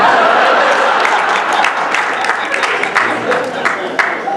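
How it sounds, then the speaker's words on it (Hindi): An audience at a Hyderabadi mushaira claps in a sustained burst of applause, dense and steady with scattered louder claps, while a voice talks faintly beneath it. "अब तालियां मिल रही"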